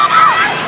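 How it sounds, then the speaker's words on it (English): Hooter blaring at a women's rugby sevens gold medal match at the SEA Games, a single loud tonal blast that bends downward in pitch before fading. "The hooter sounds."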